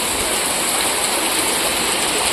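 Floodwater rushing through a street in Coimbatore, a loud, steady broadband roar of fast-moving water close by, continuous with no pauses.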